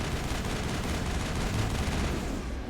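Sustained gunfire in the Mass Effect video game, a continuous dense rattle of shots at moderate volume without pauses or speech.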